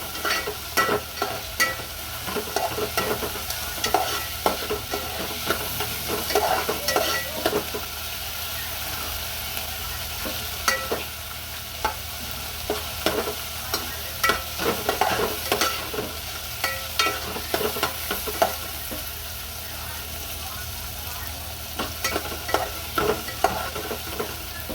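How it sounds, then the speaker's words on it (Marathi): Onions sautéing in a pan until golden sizzle steadily while a utensil stirs and scrapes in repeated clattering bursts, close and clear. "आता या कांद्याचा सोनेरी रंग होईपर्यंत त्याला मस्त असं आपण थोडं परतवूया"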